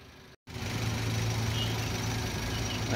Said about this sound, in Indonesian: Teman-teman bisa dengar sendiri suara irama mesinnya.